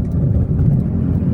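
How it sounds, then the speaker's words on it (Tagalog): Road traffic in Cabanatuan, Nueva Ecija, a loud, close, continuous low rumble of vehicle engines rolling along the street. "Yun ang traffic dito."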